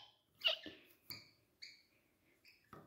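A pet bird calls for food with a series of short, sharp high chirps and squeaks, spaced irregularly and heard close up in a quiet room.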